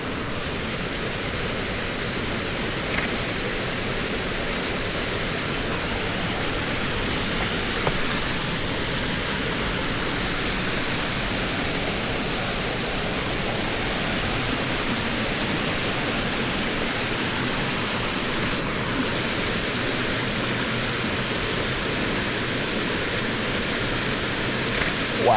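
Waterfall in Cuyahoga Valley National Park running an inch or two higher than normal, a steady, even rush of falling water that continues unbroken and fairly close throughout.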